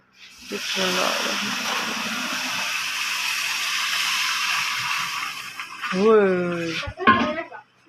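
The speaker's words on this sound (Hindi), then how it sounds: "अब जी सूजी के अंदर हम लोग पानी डाल देंगे।" Water is poured into hot roasted semolina in a pan while making halwa, giving a loud, sustained steaming hiss and sizzle of several seconds, with speech before and after it.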